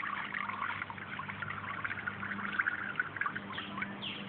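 Water trickles and drips out of a pool toy, a light continuous dribbling close by, with birds chirping faintly in the background.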